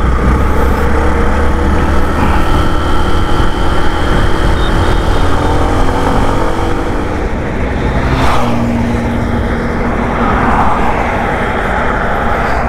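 Hero Super Splendor BS6 motorcycle being ridden in first gear, a steady, loud engine drone with constant wind rush throughout, no talking.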